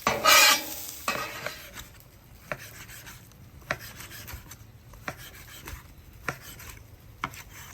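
A cheesesteak quesadilla cooks on a Traeger Flatrock griddle: a brief burst of sizzle at the start, then quiet scraping and scattered sharp taps of a spatula against the flat top, fairly close and without talk.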